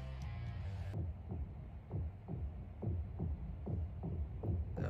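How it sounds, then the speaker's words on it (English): Heartbeat sound effect from the Hunter x Hunter anime, a series of deep, throbbing thumps in steady rhythm after a brief burst of other sound at the start. "That heartbeat's getting louder."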